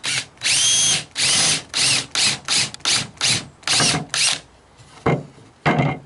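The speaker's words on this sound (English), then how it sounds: "this is a number 10 or 3/8 inch countersink" A power drill bores a 3/8 inch countersink hole into wood in a series of short, loud whirring bursts, about a dozen pulses of roughly half a second each with brief pauses between them, close up and with no talking.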